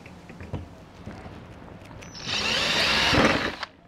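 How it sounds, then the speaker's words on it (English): A power drill whirs loudly for about a second and a half as it bores into a wheelie bin handle, after a few quiet clicks and handling noises. "Drill a hole."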